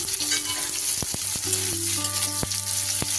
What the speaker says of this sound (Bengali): কড়াইতে কিন্তু আবার আমি কিছুটা সর্ষের তেল দিয়ে দিয়েছি এবার পেঁয়াজের টুকরোগুলো দিয়ে দিলাম